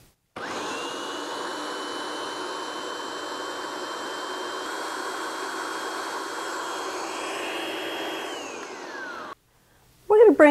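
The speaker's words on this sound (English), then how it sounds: "we're going to whiz it up till we get a nice puree" A kitchen blender whirs continuously as it purees fresh strawberries, a steady high-pitched whine that rises slightly near the end before stopping abruptly, followed by a brief clatter.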